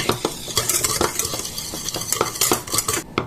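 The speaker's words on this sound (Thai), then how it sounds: "ยีไข่แดงกับน้ำตาลเข้าด้วยกัน" A whisk beats egg yolks and sugar in a bowl for an egg tart filling, giving quick, steady clinking and scraping strokes, close and fairly loud, with no talking.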